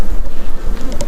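Honey bees buzz at an open beehive, a dense, close, continuous droning hum with no voices.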